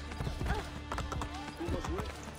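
Horse hooves clip-clop in a steady rhythm while riding in Assassin's Creed Brotherhood, with game music and a voice talking over the steps throughout.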